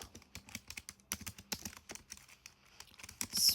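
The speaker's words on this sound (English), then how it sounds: "Sorry about the keyboard noise." Rapid, irregular clicks of a computer keyboard, close and fairly quiet, in quick bursts with short pauses between them.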